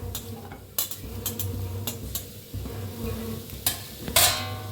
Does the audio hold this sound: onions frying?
yes